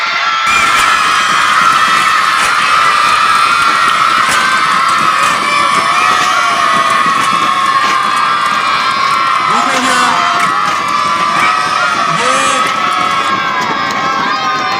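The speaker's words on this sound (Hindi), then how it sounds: "तालियां बजा के रखनी है और बच्चे शोर जितना कर सकते हो करो, जोर से शोर करें" Children cheering, shouting and clapping at a school annual prize-giving ceremony, a loud, sustained crowd roar with whoops and high yells throughout, some voices rising above the din.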